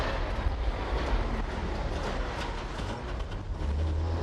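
A steady low rumble of a moving train at the Trabant factory in Zwickau with faint rattling, continuous and fairly loud, no voices.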